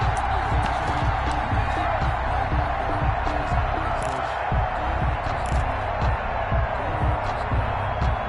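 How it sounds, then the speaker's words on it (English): A stadium crowd in a PS4 football game cheers and roars steadily, a dense continuous wash of applause, with a commentator's voice running over it. "How about some applause for the defense there?"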